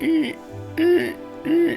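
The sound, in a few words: bird calling outside the window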